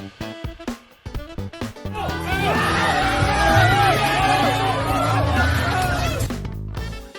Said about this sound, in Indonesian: Mereka yang datang ke acara itu bahkan sampai berteriak heboh ketika nonton bareng pertandingan bola tersebut